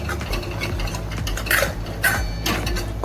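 A spoon stirs onion-garlic masala and mutton masala in a metal pan, giving steady close scraping and rhythmic clinks against the pan over a low background hum.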